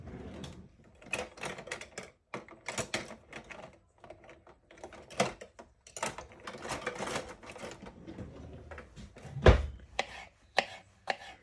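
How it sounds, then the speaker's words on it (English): A knife chops vegetables for savoury rice on a board in quick irregular bursts of crisp taps, close and fairly loud, with short pauses between runs of strokes and one heavier thud near the end. "If you feel more comfortable, you can always chop it using something smaller"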